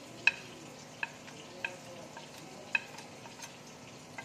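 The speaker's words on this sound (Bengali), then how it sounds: "এবার আমি একটু জল দিয়ে গুলে নিচ্ছি" A spoon stirs coriander, chilli and cumin powders, amchur and ginger-garlic paste with water in a bowl. It is quiet and close, with about five sharp clinks against the bowl over a faint background hiss.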